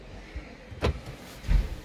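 Two short mechanical clunks from a Hyundai i30 Wagon's door locks, one locking and one unlocking about half a second apart, close and fairly quiet.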